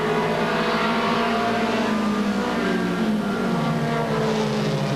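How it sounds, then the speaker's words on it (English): At a 1985 weekly race on the oval at Bryar Motorsports Park, race cars including a little Volkswagen roar around the track, a continuous loud blend of engines rising and falling at a distance. "So the race goes on with the little Volkswagen."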